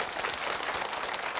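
Lecture-hall audience breaks into applause at a health talk, a steady dense patter of many hands clapping, evenly sustained and fairly loud with no voices over it.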